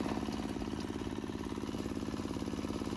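A motor cultivator's engine revving while tilling soil, a loud, close, pulsing mid-pitched drone with a rapid regular chug throughout, no talk over it.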